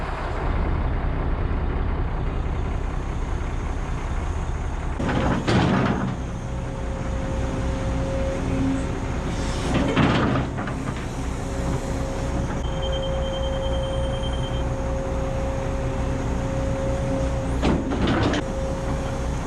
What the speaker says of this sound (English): Trying to back in the truck.